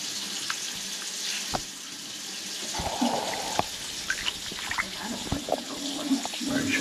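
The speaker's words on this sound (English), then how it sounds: "Alright, shut that sink off." Water from a sink faucet runs steadily during bathtub drain unclogging work, a soft, continuous hiss with scattered clicks and knocks of handling nearby.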